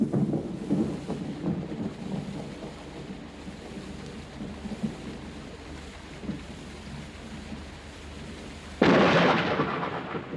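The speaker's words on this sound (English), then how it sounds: "What darkens and what chills? A mighty rainstorm from the Mendip Hills." A heavy rainstorm over the Mendip Hills by the seaside: a steady wash of rain and gusty noise, then a sudden loud crack of thunder breaks in near the end and rumbles on.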